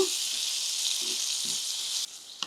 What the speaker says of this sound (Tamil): கத்திரிக்காய் சேர்த்துக்கலாம் ஒரு ரெண்டு மூணு நிமிஷம் கொஞ்சம் நல்லா வதங்கணுங்க